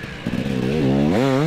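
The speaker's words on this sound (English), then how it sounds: "The bike is sounding sweet, to be fair." Husky 300 fuel-injected two-stroke dirt bike on a warm-up lap, its engine buzzing and rising in pitch as it revs up, fairly close and loud.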